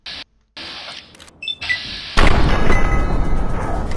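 Gunfire from a reservist's rifle in Fallout 3 bursts in loudly after a stretch of sparse, quiet game sounds, leaving a dense, sustained roar to the end.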